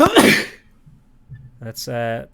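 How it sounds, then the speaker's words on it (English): A single sharp sneeze bursts out close to the microphone, followed by a short pause and then a few words of speech. "I tried to mute my mic halfway through the sneeze"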